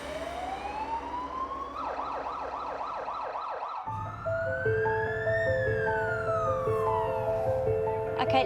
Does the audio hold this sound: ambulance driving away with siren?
yes